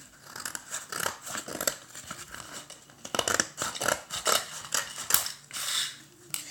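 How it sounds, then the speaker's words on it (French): Scissors snip through a large piece of material while making a toy fridge, a run of close, crisp cuts in uneven bursts with brief pauses between strokes. "je vais couper une grande partie"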